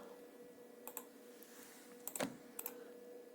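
Keystrokes on a computer keyboard entering a one-time passcode during an online PM Kisan farmer registry, a few separate quick clicks and a short burst, close and fairly faint over a steady room hum, no talking.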